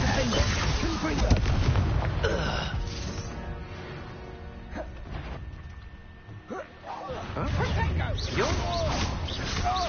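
Blasts from a Confringo fire-blasting spell in Hogwarts Legacy burst loudly amid dense game combat noise, with a heavy explosion early and more rumbling impacts toward the end, while a voice speaks over the action.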